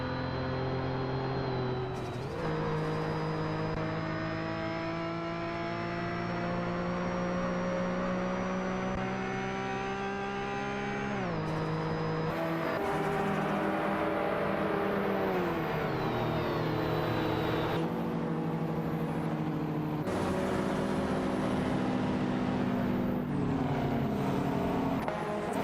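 AI-driven race cars in a racing video game, engines whining steadily as they jockey for position, with pitch sweeping up through the gears and dropping at shifts over about 26 seconds, loud and continuous.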